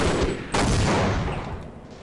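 Soldiers firing on the player in Half-Life, a dense burst of gunfire that breaks out loud and close, then rattles on in a sustained fusillade that slowly tapers.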